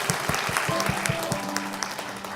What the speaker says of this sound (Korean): 우리 박수로 축복해 주시면 감사하겠습니다.